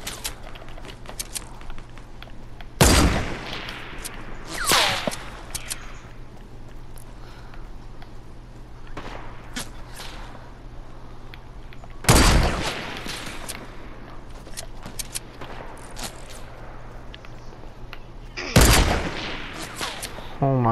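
Loud bursts of gunfire in a shooter game crack out in three separate volleys spread across the stretch, with quieter ambient game noise and a low steady hum between them.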